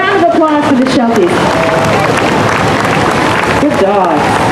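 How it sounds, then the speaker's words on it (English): At an evening festival dog show, an audience applauds after the Sheltie herding-group entrants, a broad roar of clapping and crowd noise mixed with an announcer's amplified voice at the start and end. "A round of applause for the Shelties."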